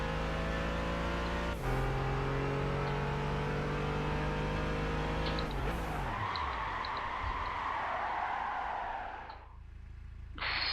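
A race car in Gran Turismo 5 holds a steady engine drone, then the pitch drops under braking as the tyres skid and hiss, fading away near the end. The sound is loud and steady with no talking.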